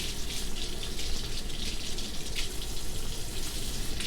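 Warm water runs steadily from a kitchen tap, a continuous close hiss and splash with no break, no voices over it.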